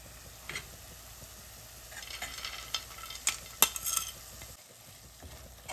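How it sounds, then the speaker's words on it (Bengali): Roasted dry fruits are stirred into carrot halwa in a pan, giving faint close scraping and clinking spatula strokes over a low sizzle, with a few sharper taps midway and no talking. "আমি এখন ড্রাই ফ্রুটসটা একটু মিশিয়ে দিচ্ছি।"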